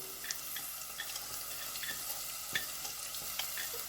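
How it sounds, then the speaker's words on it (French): Ground dry chilli, crushed dry rather than pureed, poured into a hot pan, giving a steady close sizzle and frying hiss with small stirring clicks and pops throughout. "Et là, je vais verser ce piment."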